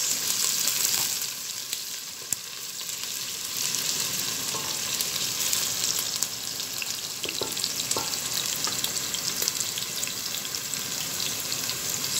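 Fried rice sizzles and crackles steadily in a hot pan while being stirred, with occasional scraping clicks of the utensil, close and continuous throughout.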